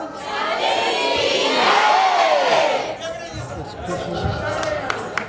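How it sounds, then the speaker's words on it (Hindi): An audience at a live Shyam kirtan during a temple's annual festival in Gonda roars and shouts together in a loud sustained crowd swell, then settles into scattered claps and chatter. "एक बार आप लोगों को देखिए कितनी ताली है।"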